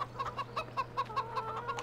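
Chickens on a Farming Simulator 2015 farm cluck in a quick, steady series of short, clear calls close by, with a low hum underneath.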